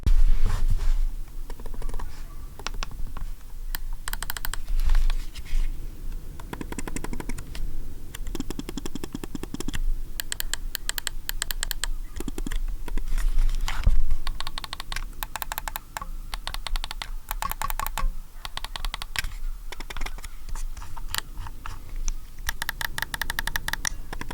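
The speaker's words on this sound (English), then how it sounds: "now let's have a listen to all of the clicks and all the buttons on the mouse" Close clicking of the buttons on a ProtoArc EM11 NL ergonomic mouse, over and over in quick, irregular bursts, with brief pauses between runs of clicks.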